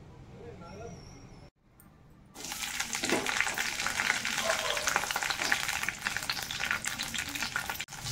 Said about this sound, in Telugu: పచ్చిమిర్చి కొంచెం ఫ్రై అవనివ్వాలండి.